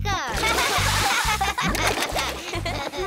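Cartoon magic water splashing and splattering, a loud wet burst that sloshes on in rhythmic pulses, with children's voices and laughter mixed in.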